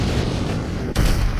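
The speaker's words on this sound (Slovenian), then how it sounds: "Vzemi to in zdaj poskusi še moj končni udarec." A heavy final punch lands in GTA 5 with a Shin Sonic mod: a loud, booming impact that cuts sharply through a dense rumbling background roar about a second in.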